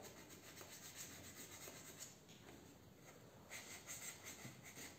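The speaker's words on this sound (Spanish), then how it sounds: "Lijamos" Coarse sandpaper rubs back and forth across a wooden butterfly box at a craft workshop, a quiet, scratchy rasp in uneven strokes that swells louder near the end.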